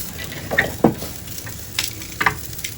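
Steak grilling with a pat of butter melting on top, giving a soft steady sizzle with a few brief crackles and pops spread across the moment, nobody speaking.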